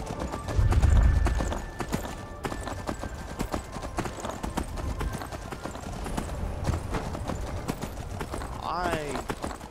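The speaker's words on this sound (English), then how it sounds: "I need to get back to White Run. The horse is really fast." Rhythmic hoofbeats of a galloping horse in the video game Skyrim, steady and moderately loud, with a person talking over them and a brief whinny near the end.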